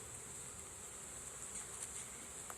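Honeybees buzz at a beehive, a faint, continuous high drone with occasional louder passes as single bees fly close, alone without any talk.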